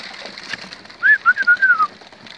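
A silver pigeon on a rooftop coos close by in a short run of soft, rhythmic notes, with quiet outdoor ambience around it.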